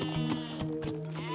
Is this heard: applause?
no